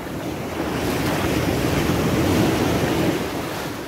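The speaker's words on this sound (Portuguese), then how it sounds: "tô surpreso com as ondas de hoje" Ocean surf rolls in at Boa Viagem beach in Recife on a stormy day with a rising tide, a loud continuous roar of breaking waves mixed with wind buffeting the microphone.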